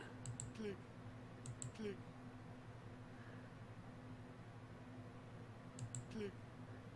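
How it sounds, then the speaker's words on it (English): In Minecraft, a tiny voice says the word "click" with each click, heard as three faint clusters of short clicks spaced a few seconds apart over a quiet background hum. "Every time I'm clicking, I'm hearing the word click."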